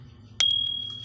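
A bright bell ding plays as a notification sound effect, one sharp strike whose clear ring lingers and fades over a quiet background.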